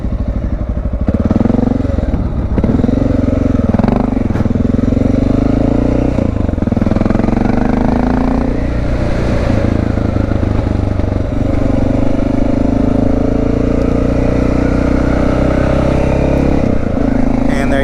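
A motorcycle ridden at low speed by a beginner accelerates and shifts up through the gears, its engine note rising and dropping with each clutch change, loud and close throughout, with occasional clatter.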